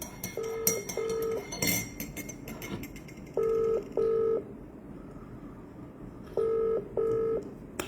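Telephone keypad dialing tones, three pairs of short, loud, clean beeps spaced a few seconds apart over low room noise.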